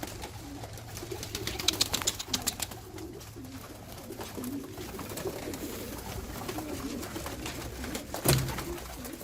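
Homing pigeon loft with homer squabs, pigeons cooing steadily through the scene, soft overlapping coos with occasional wing flutters and a brief louder clap near the end, no talking.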